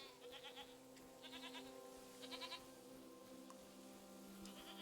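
A goat in the video game Season: A Letter to the Future lets out several short, wavering bleats in quick bursts over a steady background hum, fairly faint and without talk.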